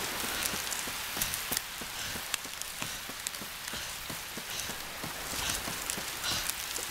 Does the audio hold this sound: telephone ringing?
no